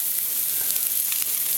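Butter sizzles and fries in a hot frying pan around soaking bread for French toast, a steady loud hiss with no speech.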